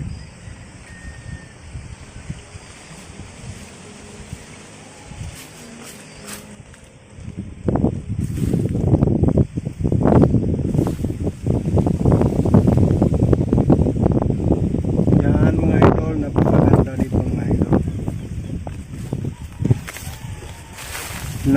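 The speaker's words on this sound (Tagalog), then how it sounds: "Napakasarap ng hangin." Wind gusts across a mountaintop among java plum trees, starting light and then turning into loud, rough buffeting against the microphone with rustling, a voice talking briefly.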